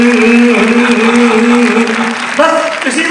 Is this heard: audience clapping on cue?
yes